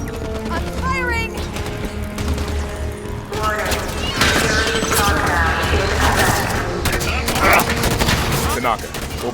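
Gunfire from the Halo 5 video game, sustained bursts of rapid shots with crashes and impacts throughout, loud and busy, with game voices and a constant low background rumble.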